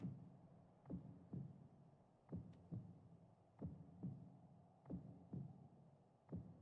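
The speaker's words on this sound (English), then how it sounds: "Good that I hear my own heartbeat." Heartbeat sound effect in Final Fantasy 14, slow regular thumping double beats, each a soft low pulse, steady and alone over a faint hum.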